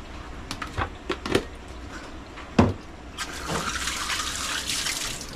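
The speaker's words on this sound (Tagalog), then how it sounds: "Dagdagan ko lang yung tubig kasi yung konti lang pala." Water poured from a tap into a cooking pot, starting after a few scattered clinks and knocks and then running as a steady splashing stream close by.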